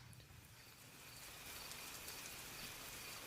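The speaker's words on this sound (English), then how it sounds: "it's just rain now. Just rain. A little bit of cricket subtone in there." Steady rain falling in a backyard, a dense even hiss that fills the whole clip, with a faint high cricket tone running underneath.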